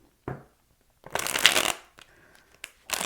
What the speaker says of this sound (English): Let's reshuffle.